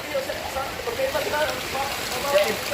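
Rain falls steadily in a dense, even hiss of drops on surfaces, unbroken across the short stretch with faint background voices.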